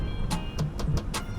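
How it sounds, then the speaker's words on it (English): A car climbs a hill toward a golf clubhouse in the Negril hills of Jamaica, its engine a steady low drone with a few sharp bursts of noise. "we are just now driving up the hill and we are heading towards a clubhouse"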